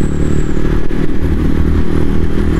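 A 2023 TVS Ronin 225 motorcycle on a touring ride in East Java, its engine droning steadily and pulling under acceleration, loud and close with wind rush over the microphone.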